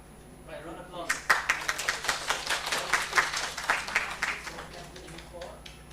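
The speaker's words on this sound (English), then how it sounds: "Right, round of applause" Round of applause at a webinar for older persons, a modest group clapping for several seconds, fairly faint and a little distant, with talk before and during.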